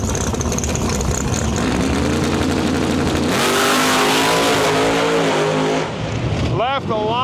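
Nitrous drag race car launching hard off the line at a large drag racing event, a loud sustained engine roar that rises in pitch as the car pulls away, steady and close throughout.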